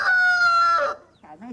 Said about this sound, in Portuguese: O Dona Catarina, o galo capão, ele canta? Canta, ué